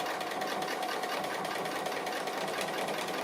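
A sewing machine stitches appliqué, a fast, even mechanical whirr with a rapid needle rhythm that runs loud and unbroken from start to finish, with no voices.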